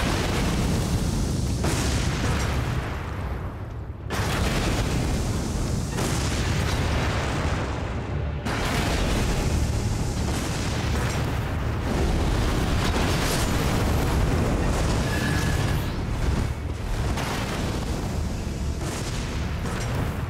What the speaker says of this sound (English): They explode afterwards as well.